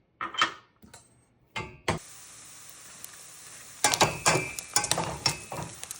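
Nine ounces of bacon sizzling in a pot, with a few sharp clatters of handling at the start, then a steady hiss, followed by a burst of louder crackling and stirring scrapes near the end.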